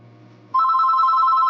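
On an outgoing phone call, the ringback tone starts abruptly after a moment of quiet and holds as a steady, clear electronic tone to the end.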